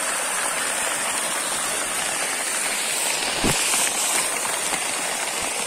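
Water pouring out after heavy rain in Ceará, a constant close hiss and rush of flowing runoff with one brief low thump partway through.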